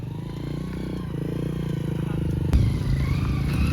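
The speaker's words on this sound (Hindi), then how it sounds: "कच्चे मार्ग से मोटरसाइकिलें निकाले जा रहे हैं" Motorcycles ride over a rough, unpaved dirt track beside a river crossing, engines droning near with rattling clatter and a sharp knock partway through, the noise rising slightly toward the end.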